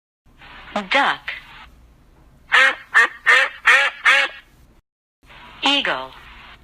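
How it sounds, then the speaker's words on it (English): A duck quacks in loud, nasal bursts: a short pair, then a rapid run of five quacks, then another pair after a pause, close and unaccompanied by speech. "Duck."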